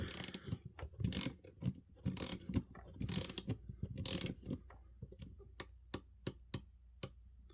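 A 60-tooth ratchet for a Leatherman tool drives a bit into wood, giving close, crisp clicking that comes in rapid bursts and then slows to evenly spaced single clicks.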